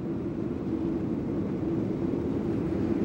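Steady, loud broadband roar with a low droning hum, continuous and unchanging throughout, inside a Boeing 737 airliner cabin in flight.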